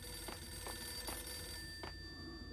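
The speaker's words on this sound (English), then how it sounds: "Alright, I gotta answer the phone." A telephone in the video game Max Payne rings faintly, with short repeated bell bursts spaced evenly over a low background hum.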